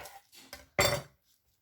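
Kitchen knife slicing fresh Brussels sprouts in half on a cutting board, several quiet cuts followed by one louder, sharper chop, close by.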